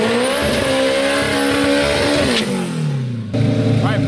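A 650-horsepower race car with a stock K20/K24 engine makes its first drag-strip pass, a loud, close engine note that rises through the gears, drops at each shift and cuts abruptly near the end, with some tire noise.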